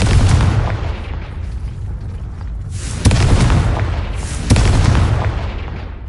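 A Confringo blasting curse explodes in Hogwarts Legacy, one of several deep booming blasts that roll out and decay, with sharp cracks at the onset of each boom, loud and close.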